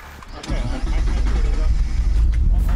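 A Kia Stinger GT or Mitsubishi 3000 GT sports car engine catches with a sharp start, then settles into a steady, loud, close idle, with people talking over it.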